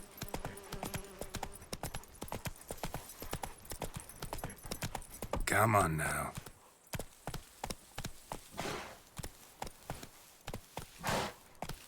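A horse's hooves clip-clop in a steady walking rhythm in The Witcher 3, broken by a brief rustling whoosh, while someone speaks briefly.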